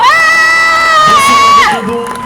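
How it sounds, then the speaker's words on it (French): A crowd at a cosplay event cheering with loud whoops and shouts, sustained for a couple of seconds before fading. "Oui, on peut l'applaudir, oui."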